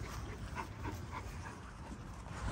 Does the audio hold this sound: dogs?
yes